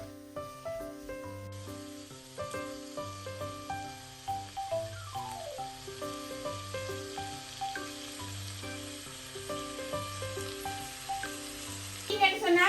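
Fresh prawns frying in a pan while being stirred, a steady soft sizzle with scraping stirs beneath louder sustained music playing throughout.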